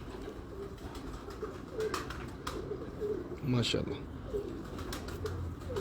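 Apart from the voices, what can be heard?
pigeons cooing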